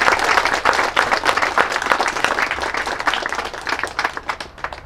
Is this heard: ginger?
no